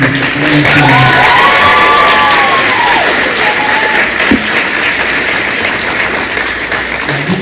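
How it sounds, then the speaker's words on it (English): An audience at a high school journalism awards ceremony gives a dense, sustained round of applause with cheering and whoops mixed in, loud and continuous throughout. "let's everybody please give a big round of applause for our host tonight"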